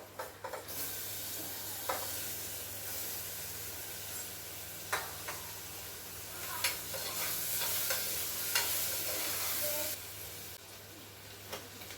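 Mango and tomato pieces frying in a pan, giving a steady sizzle and hiss throughout with occasional stirring scrapes and clicks, close and moderately loud.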